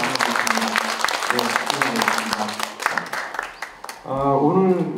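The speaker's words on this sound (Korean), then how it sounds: "빨리 완쾌하시라고 박수 한번 주시고" Applause from the audience at a Korean arts and culture awards ceremony, a full burst of clapping under a speaker's voice, fading out near the end as talking resumes.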